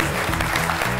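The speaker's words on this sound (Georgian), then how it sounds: "აპლოდისმენტები" A studio audience at a comedy competition superfinal claps in a dense, steady burst lasting about a second, with a faint tonal hum underneath.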